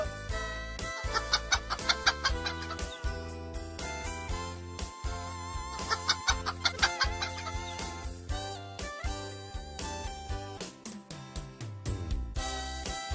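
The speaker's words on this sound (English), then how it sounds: "Hen." A hen clucks in a rhythmic series of short, repeated calls, set against a steady musical background.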